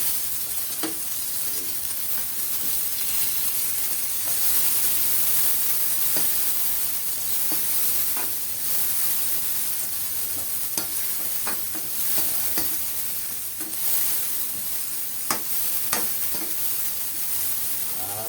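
Garlic and onion frying in a pan, a steady loud sizzle with occasional stirring clicks and scrapes, no talking.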